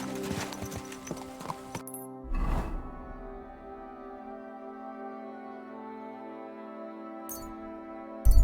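Horse hooves clop in a quick rhythmic run in the video game Kingdom Come: Deliverance II, then stop, leaving a sustained musical drone; a brief whoosh and faint thuds follow.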